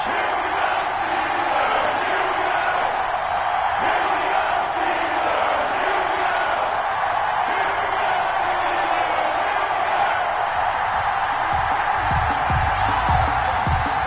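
An NFL stadium crowd roars before kickoff of a Kansas City Chiefs versus Pittsburgh Steelers game, a dense, sustained wash of cheering and shouting with a commentator talking over it.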